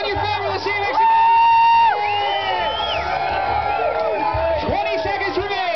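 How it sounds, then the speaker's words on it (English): A crowd cheers, whoops and yells on behalf of contestants racing at a crawfish eating contest in Charleston, a steady loud mass of voices with shouted calls rising over it. "Cheer them on. Cheer on your family."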